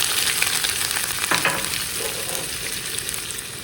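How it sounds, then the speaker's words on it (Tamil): Chopped onions sautéing in hot oil, a dense steady sizzle close by with a brief stir-scrape partway through, running continuously without any talk. "எண்ணெய் நல்லா கொதிச்சா பிறகு வெங்காயத்தை போட்டு வதக்குவோம்"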